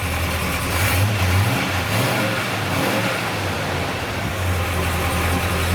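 A 1970 Buick Wildcat engine idling steadily, a low, even rumble with a slight uneven lope, close and continuous with no speech.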